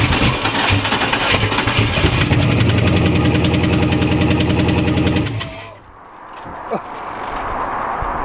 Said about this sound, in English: It's air escaping between the block and the head.